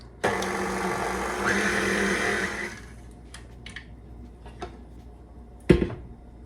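A stand mixer kneads gluten-free sandwich bread dough, a loud, steady motor whir with rattling for about two seconds that then drops to quieter, intermittent knocks and clatters, with one sharp bump near the end.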